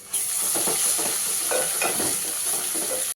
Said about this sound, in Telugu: అల్లం పేస్ట్ ఇట్లా పచ్చివాసన పోయేదాకా వేయించుకుందాం మంచిగా దూరగా